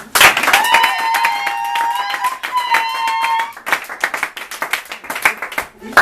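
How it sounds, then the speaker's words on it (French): Newcomers being welcomed at a church thanksgiving service draw a burst of clapping from the congregation, with cheering voices and a sustained whistle-like tone over the claps, then scattered uneven clapping dying away. "on l'acclame aussi lui aussi"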